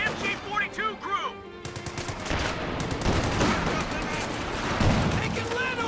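An MG42 machine gun rattles in a competitive video game match, sustained dense bursts of automatic fire over layered battle noise, with a voice heard briefly near the start.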